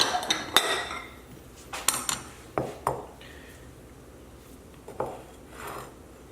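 A bowl is taken out and set down in a kitchen, giving a series of sharp ceramic clinks and knocks, close by and irregular, with quieter handling sounds in between.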